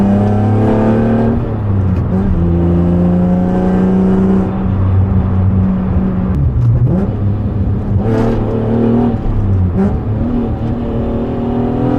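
Tuned Acura TL Type S driven on a bumpy road, heard from the cabin as a loud, steady engine drone that shifts pitch between gears, with brief thumps and rattles over bumps.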